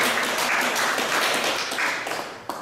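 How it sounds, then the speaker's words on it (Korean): An audience at a Korean lecture on social economy applauds to welcome a professor to the stage, with steady, dense clapping that stays fairly even throughout, then tapers slightly near the end. "윤준영 교수님 나오실 때 박수로 환영해 주시기 바랍니다"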